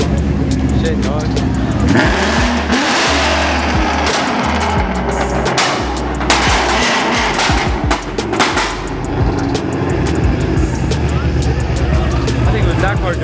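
At a racetrack car meet with Supras, NSXs, a GTR and an RX7, a car's engine revs loudly in repeated bursts amid a busy crowd murmur, with people talking nearby.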